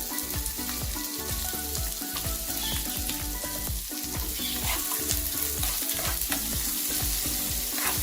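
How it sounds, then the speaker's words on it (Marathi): Onion and green chilli fry in hot oil in a pan for a samosa filling, a loud continuous sizzle and crackle broken by regular scraping stirs, close up and with no talking. "हिरवी मिरची घालायची त्यात हा कांदा घालायचा"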